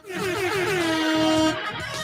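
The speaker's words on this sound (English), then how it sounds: "Boom, air horn." A loud, blaring air horn sound effect sounds in a single sustained blast of about a second and a half, then cuts off abruptly, with no talk over it.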